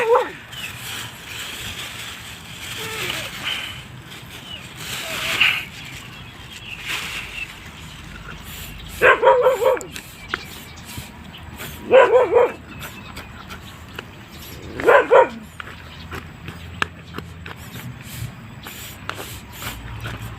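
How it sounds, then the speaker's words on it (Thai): Stray dogs among a large group kept for years bark impatiently for food in several loud, clustered bursts of barks and yips, separated by quieter stretches with faint background voices. "ไอ้ที่เห่านี่เห่าเร่งนะครับ"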